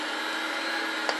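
A Sunbeam MixMaster stand mixer, model FPSBSM2103, runs at speed 5 with a steady, close motor whine and a brief knock near the end, with no talking.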